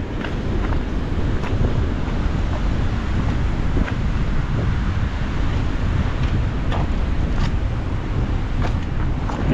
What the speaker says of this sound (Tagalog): Lakas lang po ng alon dito.